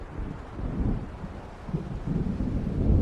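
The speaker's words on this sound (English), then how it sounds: "It seems there's a storm coming." An approaching storm in Alan Wake Remastered brings low, rolling thunder that rumbles heavily and builds in waves, with wind noise over the dark rumble.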